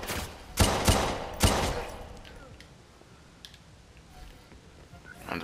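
Pistol shots in the video game Watch Dogs 2, three sharp close cracks in quick succession near the start, followed by quieter game ambience and a faint voice.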